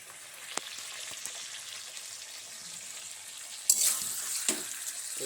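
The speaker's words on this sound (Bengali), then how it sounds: "তেল ছেড়ে দিয়েছে যে সামান্য জল দিচ্ছি" Water poured into a pan of frying chicken curry, a faint background sizzle then a sudden louder hiss and splash as the water hits the hot oil, close and without talk.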